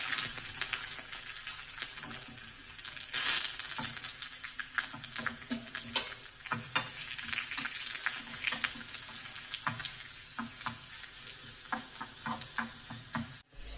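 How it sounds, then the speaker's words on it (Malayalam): Curry leaves and dried chilies fry in hot oil for a Kerala raw plantain curry, making a dense, steady crackling sizzle close by, with occasional soft stirring knocks throughout. "കറിവേപ്പിലയും വറ്റൽമുളകും ചേർക്കാം."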